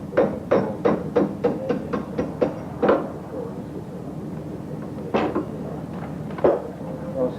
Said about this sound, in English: we've got to use this lead hammer, which does not damage the silver